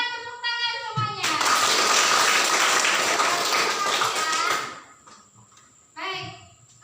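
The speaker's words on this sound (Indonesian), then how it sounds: "yang bersemangat tepuk tangan semuanya" A classroom of students claps together on cue, a dense burst of hand claps lasting about three seconds, loud and close, preceded and followed by a teacher talking.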